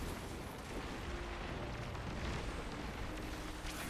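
A grenade blast in the shooter video game Destiny 2, a dense, loud, sustained wash of explosive rumble and noise filling the whole moment, with no talk over it.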